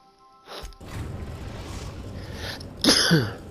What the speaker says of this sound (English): Lots of sneezes.